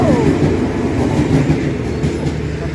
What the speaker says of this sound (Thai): ด่วนพิเศษขบวน9 กรุงเทพอภิวัตเชียงใหม่เข้าสู่สถานีลบบุรีครับ